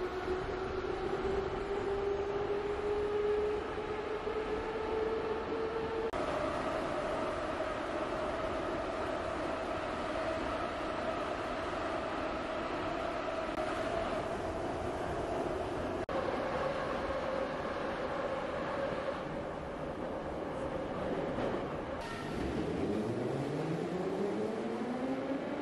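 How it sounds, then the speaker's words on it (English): A vintage-themed Moscow metro train runs through the underground, its motor whine rising and falling over a steady rumble of wheels on rail, ending with a rising tone as it pulls away. "This is a vintage train"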